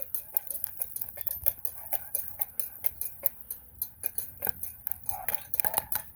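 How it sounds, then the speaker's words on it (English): Popcorn pops in a pot over a campfire, a rapid irregular series of sharp light pops and ticks that keeps building in density, heard close with faint murmuring talk underneath. "We got the popcorn making."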